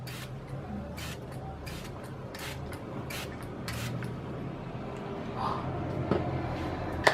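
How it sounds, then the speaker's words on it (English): Joby Matte Finish makeup setting spray is spritzed over a face in a run of quick, evenly spaced hissing puffs that sit over a steady low background hum, close and fairly soft. "We're just gonna spritz that all over our face,"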